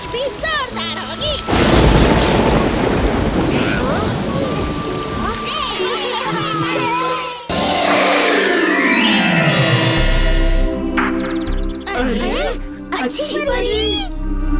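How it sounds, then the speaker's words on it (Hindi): Loud rain in a cartoon village scene, with rumbling thunder booms and a steady downpour; the texture shifts partway through, and voices and other sound effects mix in. "लगता है इस बार बारिश भी जोरदार होगी।"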